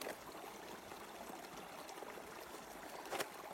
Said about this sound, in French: Il y a le ruisseau en dessous